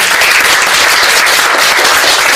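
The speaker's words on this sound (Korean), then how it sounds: "선생님께서 나오실 때 뜨거운 박수로 맞이해 주셨으면 감사합니다." Loud, dense audience applause welcomes a lecturer at a citizens' network general assembly, continuous close clapping that fills the whole short stretch at a constant level.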